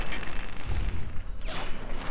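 Heavy gunfire booms in Fallout 3, a couple of deep, rumbling shots with a sweeping whoosh, close and loud over a low game background.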